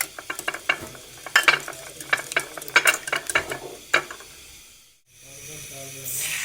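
A spiced egg mixture with chili powder and salt is stirred and whisked briskly in a bowl, quick close scraping and sloshing strokes in an uneven rhythm, easing into a softer sizzling hiss at the end.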